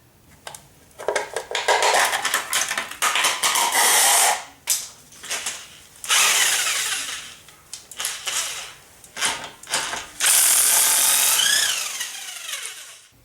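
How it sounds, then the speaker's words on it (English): Tool work on a 2005 Chrysler Town & Country wheel, with a ratchet or impact driver backing off lug nuts: several loud, bursty runs of whirring and clicking, separated by short pauses and metallic clatter, close up with no talk. "We'll pry this little cover off, pull the lug nuts, get this tire off there."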